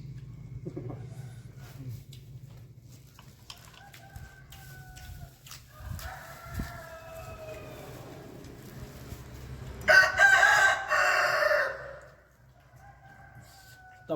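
A rooster crows loudly and close by, one long drawn-out call rising over a quiet background with faint distant bird sounds.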